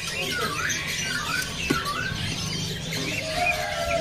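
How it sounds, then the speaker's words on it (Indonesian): A mountain ciblek songbird calls in bursts of squawky, chirping notes amid a busy background of other birds, close and fairly steady throughout. "Ini ada burung ciblek gunung gacoran ya."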